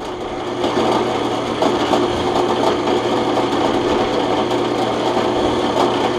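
A drill press converted to work as a milling machine runs steadily, a continuous mechanical whir with a faint tonal hum and light rhythmic cutting chatter, moderately loud and close, with no talking.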